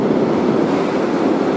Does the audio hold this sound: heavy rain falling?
no